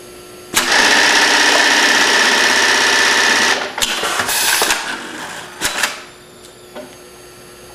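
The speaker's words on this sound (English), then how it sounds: "hit the trouble button. At that time, you'll see that the feed bracket moves to the front position." Brother RH-9800 industrial sewing machine with its feed bracket moving to the front load position: a loud, even mechanical whir for about three seconds, followed by a few sharp clicks and clattering knocks before it falls quiet.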